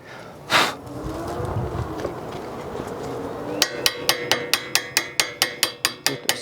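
Hammer chipping slag off a fresh flux core weld, a fast run of about a dozen sharp metallic taps near and loud, after a burst of noise and low background rumble.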